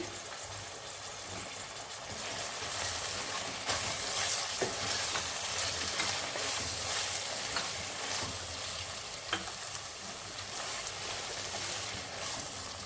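Capsicum and eggplant stir-fried in a pan give a continuous close sizzle with intermittent scraping stir strokes and light clinks, steady and fairly loud throughout.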